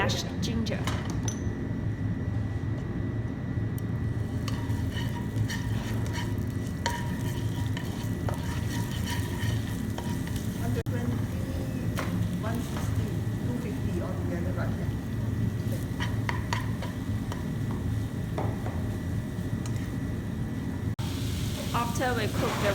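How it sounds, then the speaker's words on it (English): Shredded radish frying with mashed ginger in a pan, a steady close sizzle with repeated stirring scrapes and light clinks of a utensil, while voices talk over it now and then. "Now we're going to fry the shredded radish with some mashed ginger."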